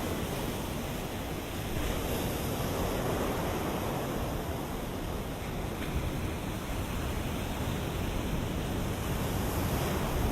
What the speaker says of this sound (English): the wind moves across the water and creates waves